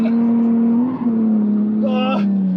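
A Lexus IS200 engine with a welded differential holds a steady high drone at maximum revs, with a voice briefly talking over it near the end.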